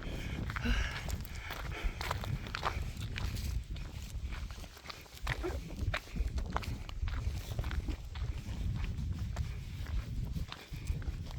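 Footsteps of people walking back along a mountain trail in the Swiss Alps near Cabane de Sorniot, a close, uneven series of crunching steps on gravel and dirt, continuous throughout with no talking.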